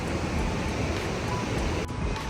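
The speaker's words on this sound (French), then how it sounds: "On entend les vagues." A steady roar of surf and wind near Quebec fills the air, broad and continuous, waves washing in without a break.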